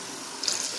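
Tap water running into a bathroom sink during cleaning, a steady soft hiss with a brief splashy burst midway, close and moderate, no voices.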